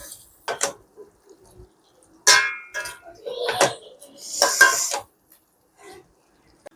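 Raw chicken is mixed by hand with turmeric, chili powder, coriander-cumin powder and chicken masala in a bowl, with close irregular clinks, knocks and scraping bursts separated by quiet pauses.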